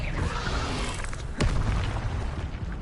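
An Expelliarmus spell cast in a Hogwarts video game, heard as a sharp booming burst that cuts through a dense, noisy game soundscape partway through.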